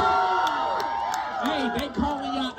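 Parents in a crowd at a high school band battle call out and cheer for band members, a loud continuous mix of whoops, shouts and overlapping voices throughout.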